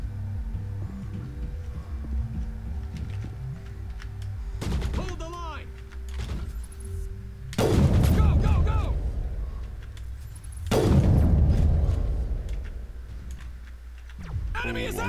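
Sniper fire in the video game Mass Effect, a couple of loud heavy cracks with booming tails standing out over a busy background of combat noise and clicks, with a voice speaking briefly.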